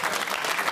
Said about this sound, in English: that's the teenagers applauding out there